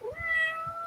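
A cat gives a single drawn-out meow, rising then steady and fairly close, over faint low background noise.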